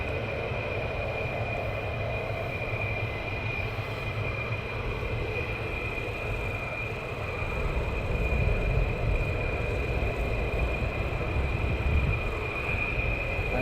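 Military jet taxiing at RAF Lakenheath: a steady, fairly distant engine roar with a high whining tone held throughout, swelling slightly louder partway through, with no voices.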